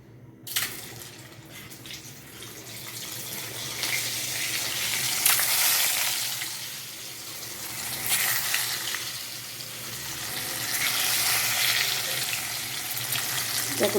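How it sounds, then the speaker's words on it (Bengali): Cut boiled eggs frying in a hot wok give a steady, close sizzle that swells and fades in waves, with faint stirring and no talking. "দেখো ডিমগুলো আমি খুব সুন্দর করে ভেজে নেব"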